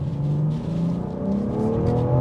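A 2022 BMW M4 in sport mode accelerates held in second gear, its engine note rising steadily in a continuous loud, close drone with climbing pitch.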